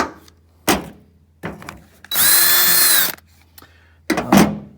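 Power drill boring holes into stacked pieces of 2x4 scrap wood, a steady whining burst of about a second between shorter thunks and handling knocks, close and loud.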